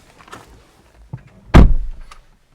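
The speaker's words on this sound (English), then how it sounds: "the way that you operate it is just stick your hand in here and pull, and there's a button." A VW ID.4 door with a flush electronic handle releases: a faint click, then a sharp, close thunk as the door unlatches and swings open, with brief rattling after.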